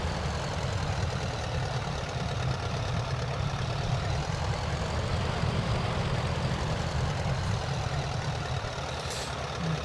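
A de Havilland Canada DHC-1 Chipmunk aircraft engine idles in Microsoft Flight Simulator, a steady low droning rumble that holds throughout without clearly dying away, with no talking.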